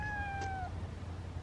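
A cat gives a single short meow, close and faint, falling slightly in pitch, then quiet low background hum.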